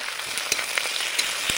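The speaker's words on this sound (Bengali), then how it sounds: "পেঁয়াজটা দিয়ে ভেজে নিচ্ছি" Onions frying in a kadai, a bright continuous sizzle with sharp crackling pops every few moments, close and fairly loud.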